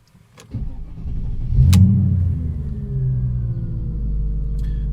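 Mercedes CLK500 starting off and driving, a low engine rumble that rises with a revving surge then settles into a steady, fairly loud cabin drone with a couple of brief clicks.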